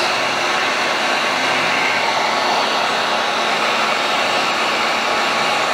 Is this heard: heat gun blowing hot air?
yes